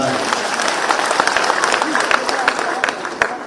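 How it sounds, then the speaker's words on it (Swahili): A crowd at a mass wedding of fifty couples claps and cheers, steady close applause with sharp individual claps standing out, loud and sustained throughout, with voices mixed in. "Tuwapigie makofi tafadhali."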